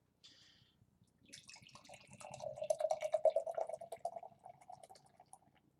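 Trimtab Breakfast Hero imperial doughnut stout pours from a can or bottle into a glass, a soft glugging stream that rises and thickens midway before tapering off, close and fairly quiet.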